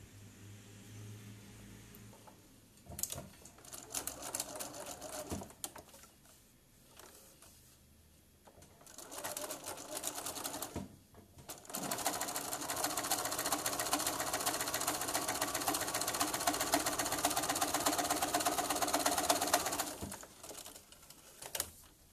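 A sewing machine stitching quilt pieces runs in short bursts at first, then in one long steady whirring run before stopping, close and fairly loud with no talking.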